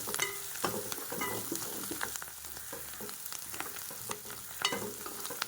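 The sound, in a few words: spring onions and tomato frying in a pan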